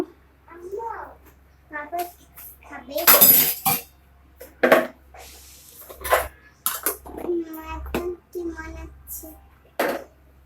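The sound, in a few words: lid being put on a cooking pot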